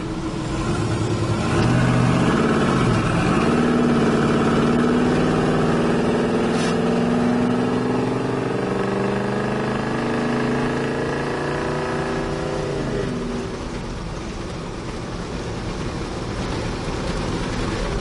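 A 1979 Dodge Lil Red Express truck with a smog-era engine accelerates, its loud exhaust note rising steadily through the gears for about thirteen seconds, then easing back to a lower cruising drone.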